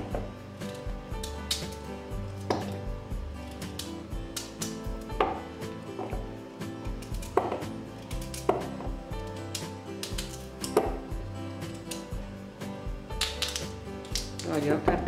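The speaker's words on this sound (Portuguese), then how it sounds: "eu vou cortar em fatias para poder cozinhar mais rápido." Knife blade chops through peeled sweet potatoes on a cutting board in a home kitchen, a steady run of sharp, close thuds and clacks with a voice talking faintly underneath.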